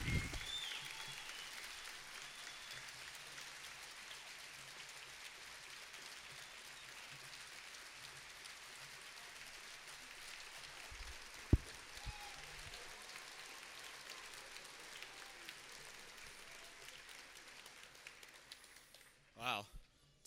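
An audience applauds after a 2017 commencement speech: steady, dense clapping sustained across the whole stretch at an even level, with one sharp tap near the middle and a brief louder burst near the end.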